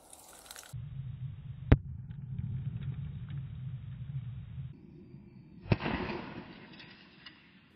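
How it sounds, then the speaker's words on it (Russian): A pirate firecracker explodes inside a large jar, giving sharp, loud bangs, one early and another a few seconds later, each with a brief ringing tail over a steady low background rumble. "еще одна пиратка была помещена в большую банку"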